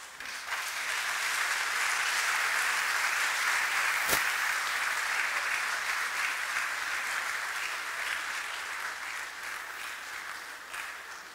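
A conference hall audience at the 70th Annual New Year School and Conference gives the keynote speaker sustained applause, a dense, even roar of many hands clapping for over ten seconds, with one sharp crack partway through.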